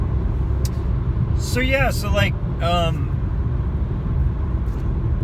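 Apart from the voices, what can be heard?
driving on a road behind a semi-truck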